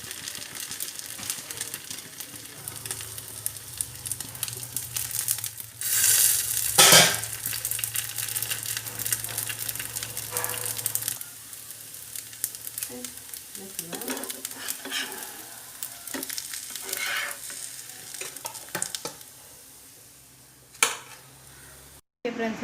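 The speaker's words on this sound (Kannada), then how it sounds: "ಸ್ವಲ್ಪ ಎಣ್ಣೆ ಹಾಕಿ ಜಾಸ್ತಿ ಫ್ರೈ ಮಾಡಿ" Aloo dosa frying in a little oil on a pan, a steady sizzle running throughout with occasional scrapes and clinks of a utensil against the pan.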